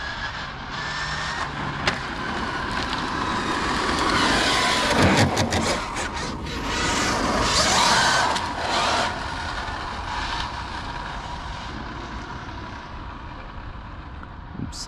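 Super Baja RC car on an SBR 2.0 chassis driving around a parking lot, a steady buzzing engine drone that swells and fades as the car passes, with brief louder surges in the middle.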